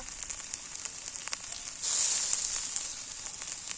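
Onion and garlic paste hits hot oil and sizzles, with a quiet hiss that swells suddenly partway through and then holds as a steady, close frying sound.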